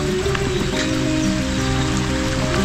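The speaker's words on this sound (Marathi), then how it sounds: "सुंदर असा हा वॉटरफॉल आपल्याला ठिकाणी पाहायला भेटतोय आणि आपण त्याला पाहतोय" A small forest waterfall near the Badlapur watch tower gives off a steady, dense splashing rush at close range. It stays even throughout, with faint droplet-like patter on top.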